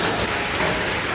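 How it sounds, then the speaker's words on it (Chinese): Heavy rain pours outdoors during a typhoon season downpour, a loud, dense, unbroken hiss of falling water with no voices, filling the brief stretch evenly. "今天下雨一下很大"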